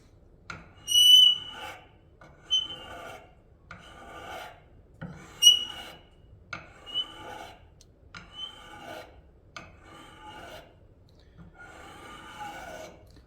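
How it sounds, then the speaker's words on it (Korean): A hook knife is sharpened on a 1000-grit whetstone with about eight close, rhythmic scraping strokes, roughly one each second, each a short rasp of steel on stone. "지금 1000번 숫돌인데"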